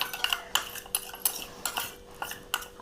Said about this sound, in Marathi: तेल टाकून आहे ना ह्याला अशी मस्तपैकी मिक्स करून घ्यायचे